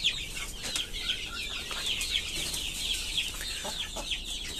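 Chickens cluck and murmur on a poultry farm where large birds are raised for meat, many overlapping clucks at close to middle distance, fairly faint but continuous, with no talking.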